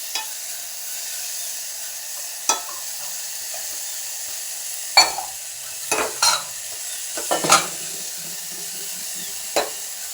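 Food frying in a pan before eggs go in, a continuous gentle sizzle broken by several sharp scraping stirs and clatters of a spoon against the pan.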